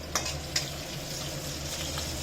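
Garlic, green chilies and bay leaves fry in hot oil for a rohu fish curry with greens, making a steady, soft sizzle, with two sharp utensil clinks near the start.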